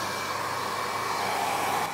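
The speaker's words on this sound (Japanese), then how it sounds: "次にドライヤーをやっていきます。" Hair dryer blowing on hair at a salon, a steady close whirring rush of air with a constant motor whine, alone and unbroken.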